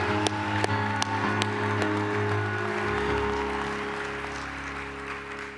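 Applause at a corporate awards ceremony rises as a short burst of sharp claps from a crowd in a hall, then thins out into a softer, fading patter.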